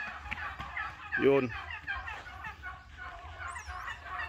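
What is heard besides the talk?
pet turkeys gobbling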